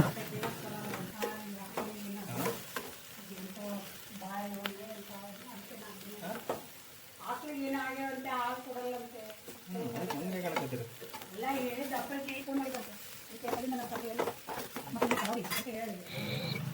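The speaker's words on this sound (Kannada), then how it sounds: "ಇದಿಷ್ಟನ್ನು ಹಾಕೊಂಡು ಸ್ವಲ್ಪ ಹೊತ್ತು ಇದೇ ರೀತಿ ಕೈ ಆಡಿಸ್ಕೊಳ್ಳಿ" Ingredients for palak roti, with chilli powder just added, are stirred as they fry in a pan, giving a quiet steady sizzle with repeated scraping strokes while a voice talks over it.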